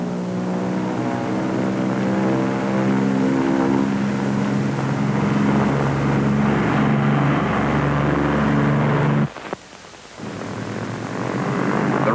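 Lockheed P-38 twin-engine fighter on takeoff with a simulated single engine failure: a loud, steady droning engine roar with a throbbing tone, then a sudden drop in power near the end before the roar builds back.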